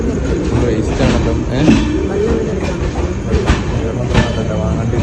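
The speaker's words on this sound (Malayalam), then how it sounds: "പൈനമ്പൂർ റെയിൽവേ സ്റ്റേഷനിൽ എത്തിയിട്ടുണ്ട്." A train rolls past at Painampur railway station with a steady clickety-clack and rumble of wheels, loud and close, while voices carry faintly under it.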